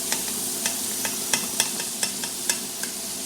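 Steady broadband sizzle of razor clams with persillade cooking in hot oil, punctuated by short crackling pops and stirring clicks spread throughout, close and fairly loud with no voices.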